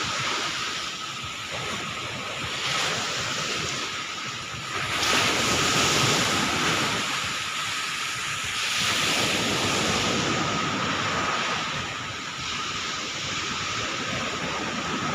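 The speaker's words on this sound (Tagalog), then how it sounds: "Ay, lakas ng alon, no?" Strong ocean surf crashes and rolls continuously, with heavy wind buffeting the microphone; waves swell louder in surges. No voices.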